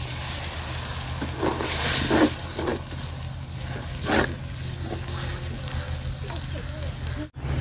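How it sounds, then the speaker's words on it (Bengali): Water for the gravy splashes into a hot pan of fried onions and spice paste, giving a steady sizzle with a few brief bursts of bubbling and pouring, close by and fairly loud. "ঝোলের পানি দিয়ে দিলাম।"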